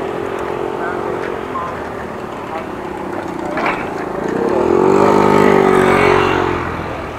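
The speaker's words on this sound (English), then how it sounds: "Bike still not working properly" A motorbike engine running poorly, giving a steady rough drone that swells louder and revs up toward the end, with brief speech at one point.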